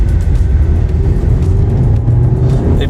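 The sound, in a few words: 2021 Skoda Octavia engine revving under acceleration in S mode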